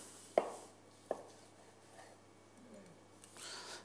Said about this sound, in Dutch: De rollade, ik snij hem even aan.